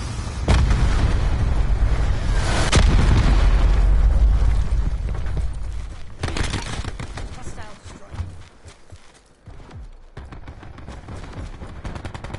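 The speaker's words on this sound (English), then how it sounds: "Hostile Hellstorm inbound." A Hellstorm missile strike in the video game Call of Duty: Black Ops 4 sets off loud, rolling explosions and bursts of gunfire. The blasts churn together for several seconds and then thin out into scattered crackling, with game voices heard.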